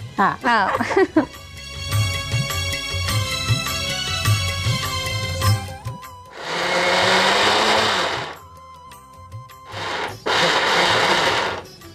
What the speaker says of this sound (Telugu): మిక్సీ పట్టుకొచ్చేస్తాను కచ్చాపచ్చాగా